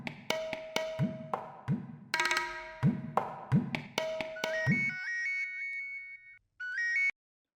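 Phone ringing on an outgoing call in a Marathi-dubbed TMKOC comedy scene: a repeated ringtone pattern of bright pulses, followed by a string of higher electronic beeps, clear and alone with no voices.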